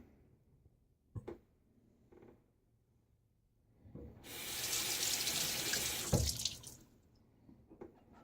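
A bathroom tap runs for a few seconds, rinsing soap off the handle of a boar-bristle shaving brush. Soft clatters and small handling knocks come before and after the steady flow of water.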